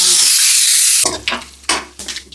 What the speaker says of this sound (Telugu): ఆయిల్ వేడయ్యాక తాలింపు గింజలు వేసారు